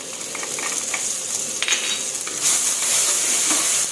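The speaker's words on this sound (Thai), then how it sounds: "ผัดทุกอย่างให้หอมค่ะ" Garlic, coriander root and pepper stir-fried in oil in a pan for salt-and-chili prawns, a close, continuous sizzle with scattered metallic spatula clinks, swelling louder and brighter toward the end, with no speech.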